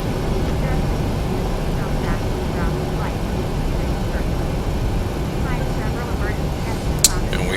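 Jet engines of a PMDG 737-800 spooling up for a night takeoff in Flight Simulator X, a steady broadband roar holding level throughout, with a faint brief click near the end and quiet voices in the background.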